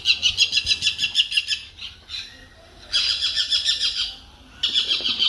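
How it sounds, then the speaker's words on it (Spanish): A parakeet gives loud, rapid bursts of shrill chattering calls in several separate runs with brief pauses between them, close and clear. "¿Ustedes saben cómo hacen los pericos? ¿Quieren escucharlo?"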